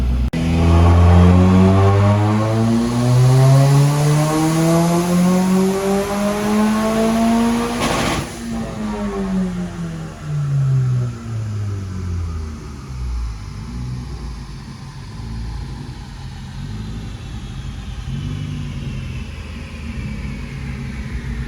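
A freshly retuned car with about 40,000 miles, boosted and running extra fuel, revs hard on a dyno, its engine note climbing steadily in pitch before cutting off sharply and winding down into a lower, uneven rumble.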